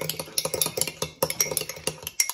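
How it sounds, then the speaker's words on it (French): A spoon stirs sugar and a little water into an olive-oil sauce, clinking steadily against the sides of a bowl in a quick, close rhythm of light taps. "Et on mélange."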